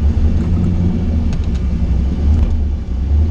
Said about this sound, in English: Good old smoky burnout.